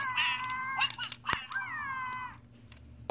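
A toy bird gives an electronic crying chirp, a series of high warbling tones with quick pitch swoops in short bursts, close and fairly loud over a low steady hum, ending in near quiet.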